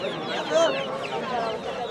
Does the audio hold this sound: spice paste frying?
no